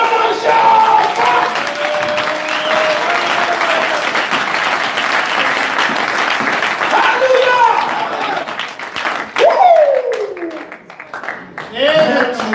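Church congregation at a gospel tabernacle service in Dakar clapping and cheering loudly and continuously, a dense wash of applause with voices shouting over it, dipping briefly near the end before swelling again.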